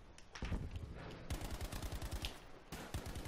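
Sustained MG42 machine gun fire in Battlefield 5, rapid bursts of dense rattling shots that run almost continuously, loud and close, with a brief pause before another burst.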